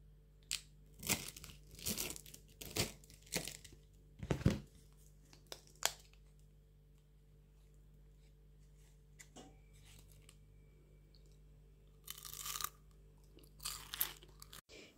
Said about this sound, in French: je vais vous laisser écouter comment ça croustille